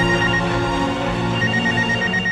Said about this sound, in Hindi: प्रवीण भाई का फोन